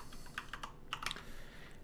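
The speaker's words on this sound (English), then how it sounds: "we do that by just typing in .macro after the wait for key label" Typing on a computer keyboard, quiet irregular key clicks in a few short bursts, the busiest cluster near the middle, heard alone without talk.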